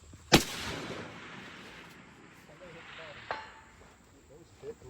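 A 6.5 Creedmoor bolt-action rifle fires once on a long range, one sharp loud crack near the start, followed by faint distant impact sounds and outdoor quiet.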